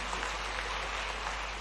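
A large conference audience at a national consultation and strategy conference in Amlaha gives steady, dense applause to welcome a visiting foreign guest, a continuous wash of many hands with no gaps.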